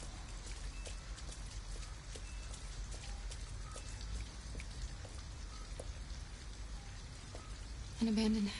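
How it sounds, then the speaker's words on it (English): Steady rain falls in a PlayStation 4 video game, a dense hiss of drops with scattered distinct drips, while someone talks near the end. "At least we'd be out of the rain."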